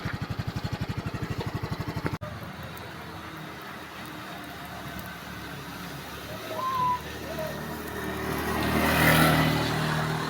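A motorcycle engine flooded after riding through floodwater runs with a rapid, rough pulsing beat for about two seconds, then cuts out, leaving faint background noise and soft distant sounds.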